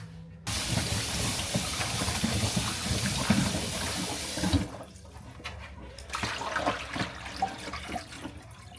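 Potatoes washed in a kitchen sink, loud running water pouring steadily for several seconds, then easing into quieter splashing and sloshing as the potatoes are handled.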